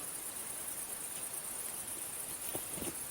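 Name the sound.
cicadas singing outdoors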